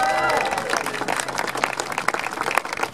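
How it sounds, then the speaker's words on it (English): An audience applauds at a launch ceremony for a new San Francisco Bay Ferry vessel in Vallejo, California, with dense clapping building after a voice opening and continuing loud and steady to the end. "please now join me, give a huge round of applause to Chair of San Francisco Bay Ferry, Jim Wonderman"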